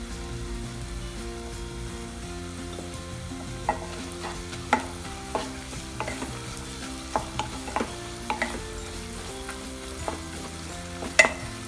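Mango ginger sautés in an open pan for pickle, sizzling steadily up close while a spoon scrapes and taps the pan in a loose, irregular rhythm.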